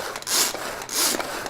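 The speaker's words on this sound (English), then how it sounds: "So I'm gonna keep pulling my chopper." A hand-pulled pull-cord food chopper chops fresh dill for a vegan tuna salad, giving two loud whirring pulls with a rasping, grinding texture, each lasting about a third of a second, close up and without talk.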